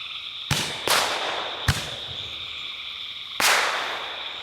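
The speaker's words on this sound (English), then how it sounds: "the first thing should be the small canister shell, also with that green little shell." Small canister firework shells bursting outdoors, four sharp cracking bangs in quick irregular succession, each followed by a brief crackling tail, fairly loud with no voices.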